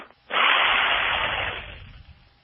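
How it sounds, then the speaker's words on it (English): A single long, airy breath lasting about two seconds, a rushing hiss that swells quickly and then slowly fades, close to the microphone. "just to take a deep, deliberate breath."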